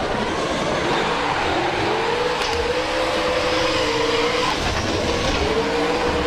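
A Toyota GT86 drift car slides through a corner at a drift competition round in Calmont, its engine note rising and falling close by, with tire noise throughout.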